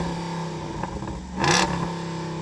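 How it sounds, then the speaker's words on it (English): Jeep Wrangler's American V8 idling, then briefly revved once with a short rising roar before settling back to a steady idle, heard from close by during a long-chassis drag race lineup. "in the Wrangler, can you rev up your American V8?"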